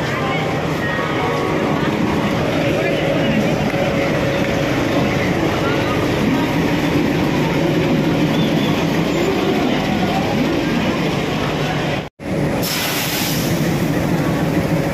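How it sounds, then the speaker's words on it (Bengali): The Howrah–Guwahati Saraighat Express rumbles and clatters steadily close by as it arrives at a station, wheels and carriages grinding along, with voices in the background and a brief sharp cut near the end. "হাওড়া সরাইঘাট এক্সপ্রেস এই যে ঢুকছে"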